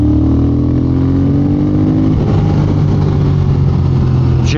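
A 2022 Triumph Speed Twin with advanced ignition timing revs loud and close, its twin-cylinder engine climbing steadily in pitch before a brief shift, then pulling on at a sustained high drone.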